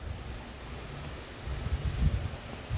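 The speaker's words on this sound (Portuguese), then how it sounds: "o vento tá forte" Strong wind gusting across an open field beside a stretch of woods, a steady low rumble and buffeting that swells louder toward the end, with no voices.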